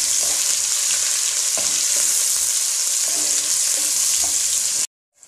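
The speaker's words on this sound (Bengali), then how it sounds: "এবার একটু পেঁয়াজটা লাল লাল করে ভেজে নেব।" Chopped onions, three large ones, frying in hot oil in a pan for a village-style mutton curry, a dense steady sizzle with occasional stirring scrapes, loud and close, cutting off abruptly near the end.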